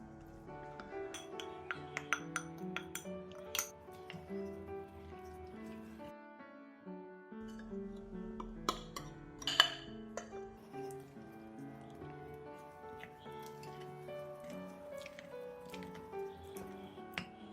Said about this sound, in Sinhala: දැන් හලාගත් පාන් පිටි ටිකත් මේ විදිහට ටික ටික මිශ්‍ර කරගමු.